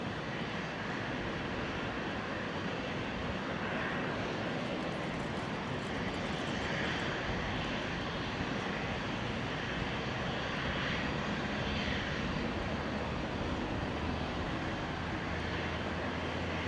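A Dash 8 Q400 turboprop taxiing toward the apron after landing on runway 19 right at Brisbane airport, a steady broad engine roar heard at a distance without any talk.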